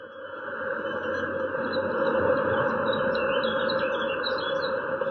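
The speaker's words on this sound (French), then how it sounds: "Vous entendez les oiseaux?" Outdoor birdsong, with bright chirps and warbles rising above a constant droning background, moderately loud and continuous.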